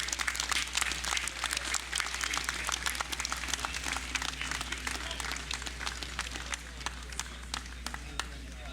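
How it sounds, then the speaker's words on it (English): Audience applause at a National Heroes Day ceremony, steady dense clapping from a crowd sustained for several seconds at moderate distance, with a low hum running underneath. "Another round of applause for Mr."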